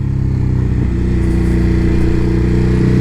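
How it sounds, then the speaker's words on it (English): A Ducati Hyperstrada 939 runs with a steady, loud engine drone while riding and changing gears without the clutch; the tone stays even, with no clear shift breaks and no talking. "Upshifts and downshifts without the clutch are an absolute breeze."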